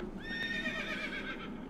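A horse in the My Island video game gives a clear, high whinny that rises and trails off over under two seconds, heard close and alone.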